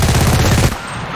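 Rapid automatic gunfire in the video game Cuisine Royale, a loud burst of closely spaced shots lasting under a second before cutting off.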